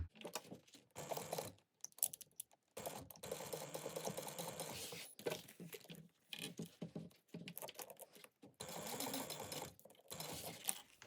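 A sewing machine stitches around fabric at an eighth-inch seam, running in repeated bursts of rapid mechanical patter separated by short pauses, close and moderately loud with no talking.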